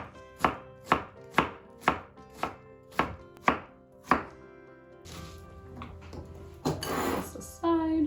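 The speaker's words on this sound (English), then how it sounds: "I'm not a pro at chopping onions" A knife chops onions on a board in a home kitchen with about eight steady, evenly spaced thuds, then gives way to clattering kitchen noise and a brief louder rustle.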